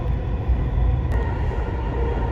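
A Dubai Metro train runs along the track with a steady, loud low rumble and a faint hiss, one brief click partway through.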